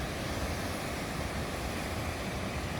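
Sea surf breaks in a continuous broadband wash, loud and close, with a wind-like hiss and no voices.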